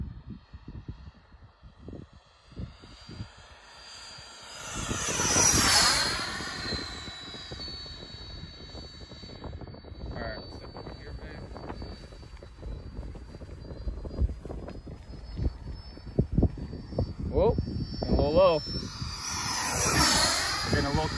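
A 90mm T-45 model jet on an Admiral 6000 Pro battery flies low and fast, its high whine holding steady with swelling passes near the start and end, while someone talks over it.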